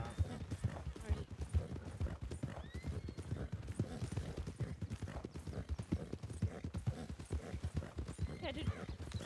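Rapid hoofbeats of a galloping horse in the video game RedM pound steadily throughout, with a whinny partway through and voices talking over the top.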